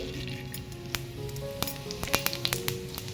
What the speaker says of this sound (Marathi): तेल पण आपलं गरम झालं. याच्यात आता मोहरी टाकूया, जिरे